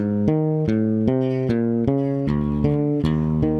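Bass guitar plucks evenly paced notes, steadily alternating between fifths and minor thirds in a repeating up-and-down pattern, clear and close with no talking.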